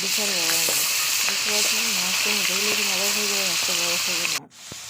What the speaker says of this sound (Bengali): মাছ আমাদের প্রায় তিন চার ভাজা হয়ে গেছে